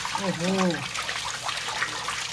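Water gushing from the drain filter outlet of a clogged LG washing machine with an OE error, a steady splashing flow running throughout while someone talks briefly at the start.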